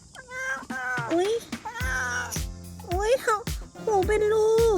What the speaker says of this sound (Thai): นี่แมวตาโอ๊ตหรือเปล่าเนี่ย